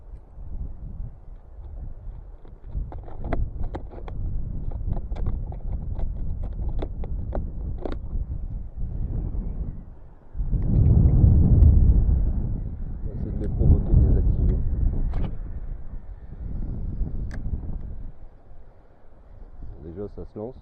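Gusty wind buffets the microphone in low rumbling bursts while people talk throughout, during surface-lure fishing for sea bass.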